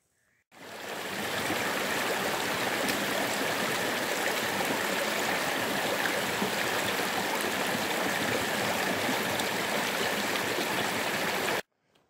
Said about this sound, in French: on va revenir dans peu de temps à nouveau près d'un torrent et d'une cascade